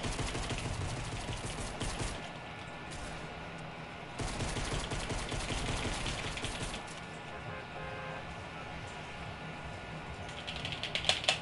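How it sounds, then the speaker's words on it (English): Rapid rifle fire in an infantry video game, bursts of gunshots rattling fast and dense, moderately distant and fairly quiet, with mechanical clatter between volleys. "because I was shooting"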